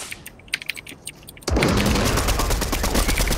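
Gunshots in the battle royale game Fortnite, beginning as faint scattered clicks and taps before a loud, sustained burst of rapid fire erupts and continues to the end.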